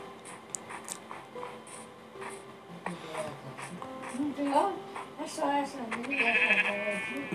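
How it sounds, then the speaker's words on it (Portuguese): Sheep bleats sound in the video game Minecraft PE, several wavering cries rising over a steady game background while a person talks throughout. "Vamos lá, matar essa ovelha."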